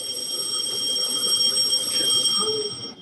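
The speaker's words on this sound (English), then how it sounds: "is that a fire alarm?" A building's fire alarm rings in a gym-like setting, a steady high-pitched electronic tone sounding continuously in the background for the whole stretch, with faint room noise beneath it.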